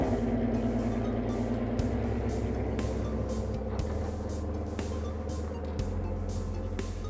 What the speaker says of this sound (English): I'm going to jump in it and we're going to drive it like naughty school children into the Nürburgring